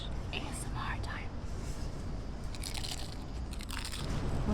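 Crunchy ahi poke nachos from Cheesecake Factory being bitten and chewed close to the mic, with steady crisp crunches and mouth sounds throughout, a faint whisper-like voice mixed in.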